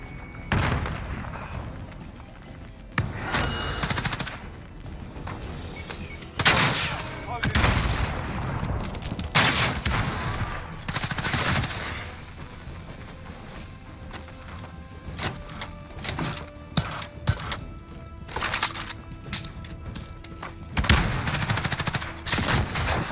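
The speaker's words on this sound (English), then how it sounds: "I'm getting shot from two angles here." Gunfire in the Warzone video game: dense automatic bursts and booming shots crackle in irregular volleys throughout, loud and close, with a player's voice talking at times over the shooting.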